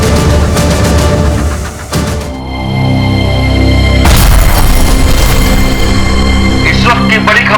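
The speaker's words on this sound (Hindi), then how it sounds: "छत्तीसगढ़ के डीजीपी की कार में हुआ धमाका" A deep, rumbling car bomb explosion booms and rolls on under dramatic music, with a second heavy blast hitting partway through, loud and close.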